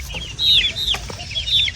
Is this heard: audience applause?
no